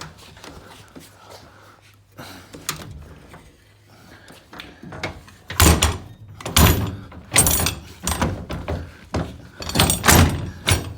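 An old 1955 Ford F600 school bus door is opened and shut several times, with loud mechanical thunks and clanks in a close, uneven sequence.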